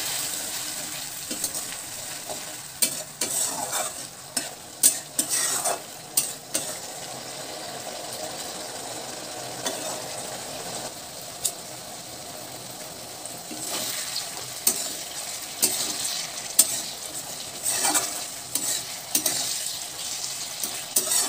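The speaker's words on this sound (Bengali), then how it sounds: "এখন আমি সবজিটা কষানোর জন্য সবজিতে দিয়ে দেব অল্প একটু জল" Ridge gourd being sautéed in a pan with a little water, giving a steady, moderately loud sizzle with stirring scrapes and clatters scattered throughout.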